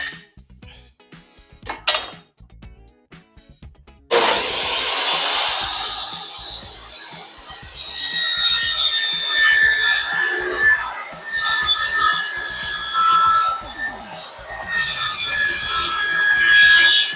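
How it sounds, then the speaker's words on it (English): An oscillating multi-tool cuts through a luxury vinyl plank during a flooring installation, with a steady, loud buzzing grind that starts after a few soft knocks and keeps going in long bursts with brief pauses. "it's not a sawzall, it's a multi-tool. So we'll get that cut."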